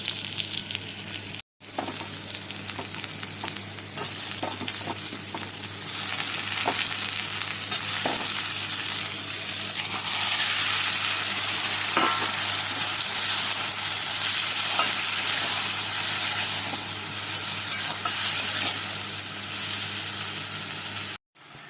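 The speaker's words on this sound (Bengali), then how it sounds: "এবার আমি আলু আর বেগুনগুলো এতে দিয়ে দেবো" Potatoes and eggplant sizzle and fry in a pan with fried onions for a long stretch, a steady loud crackle with occasional scraping stirs, close up.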